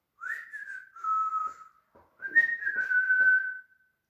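A person whistles a short cheerful tune in two clear, sustained phrases with a brief pause between, alone and close.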